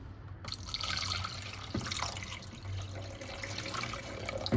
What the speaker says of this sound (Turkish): Ve sonra suyu dökelim bakalım.